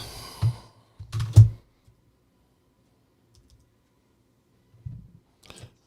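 Computer keyboard keys clicking in a few short bursts, a quick cluster near the start and a couple of faint taps later, close and dry with long quiet gaps between.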